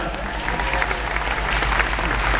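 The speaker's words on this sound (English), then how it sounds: "Give another big round of applause." Dense audience applause at a live show in Disney's Hollywood Studios, steady clapping from a crowd filling the space at close range without a break.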